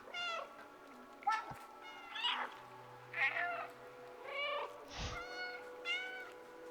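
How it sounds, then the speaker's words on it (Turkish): A cat meows repeatedly in the video game Stray, short high mews in an uneven rhythm, with a brief low thump partway through; no talking. "left alt ile miyavla."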